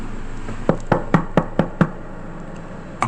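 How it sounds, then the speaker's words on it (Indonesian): Six sharp knocks on a bedroom door in a quick, slightly uneven sequence, then a pause and one more knock near the end, loud and close against a quiet background. "terdengar suara ketukan pintu di kamarku"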